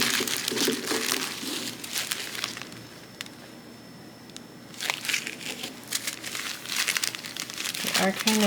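Small plastic baggies of diamond painting drills crinkle and rustle loudly up close in repeated handling bursts, with a quieter pause in the middle and a voice talking at times.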